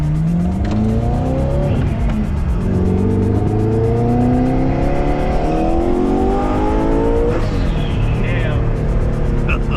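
A twin-turbo V8 full-carbon supercar accelerates hard on a Texas road, its loud engine note rising through gear changes with a brief tire squeal, heard from inside the cabin as people talk over it.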